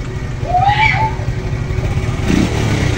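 A motorcycle engine runs steadily after a spark plug fix for smoky, misfiring running, a low even rumble with a brief rise in pitch near the start and a thump later, alone without talk.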